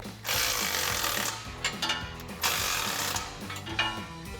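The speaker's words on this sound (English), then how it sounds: "we'll take a 17mm socket and wrench to evenly tighten this down" A 17mm socket and wrench tighten exhaust flange bolts on a 2015-2020 Ford F-150 5.0L V8, heard as close, loud bursts of rattling metallic tool noise in several separate spells with brief pauses between them.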